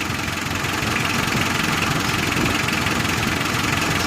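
A 4D56 diesel engine idles at low RPM, a steady, loud, rattly drone with a fine rhythmic clatter running unchanged throughout.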